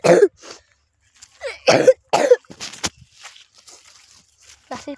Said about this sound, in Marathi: असे खोकला झाले थोडं